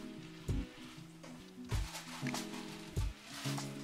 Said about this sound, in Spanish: Removemos bien y cocinamos a fuego medio.